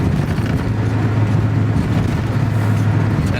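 A 1966 Ford Mustang GT with an automatic gearbox drives along, giving a steady, close engine drone and road rumble that holds even and unbroken throughout.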